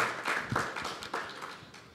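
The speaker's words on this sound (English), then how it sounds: "I think one more clap for all the presenters." An audience claps for presenters at a product launch event, a brief, moderately faint patter of many hands forming a soft, diffuse applause.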